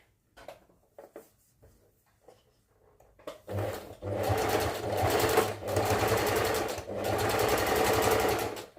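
A sewing machine gives a few short taps, then stitches in loud, sustained bursts as two fabric pieces are joined. It whirs up close with brief pauses between runs, and no one speaks.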